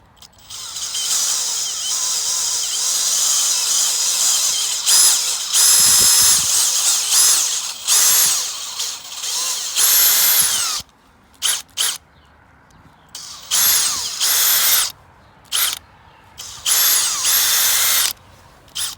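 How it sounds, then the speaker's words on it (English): A power drill whines loudly in repeated bursts, boring into a maple tree trunk for tapping, with short pauses between runs and brief quiet gaps near the end. "I actually drilled in at a little bit of a down angle"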